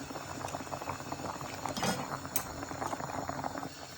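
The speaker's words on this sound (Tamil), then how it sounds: "உள்ளி மிளகு சேர்த்து ஒரு கொதி வந்ததுக்கு பிறகு" Sri Lankan fish sothi broth with garlic and pepper coming to a boil in a pot: soft, steady bubbling and light popping, fairly quiet and close, with no talk.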